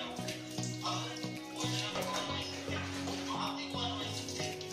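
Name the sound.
water splashing while bathing a cat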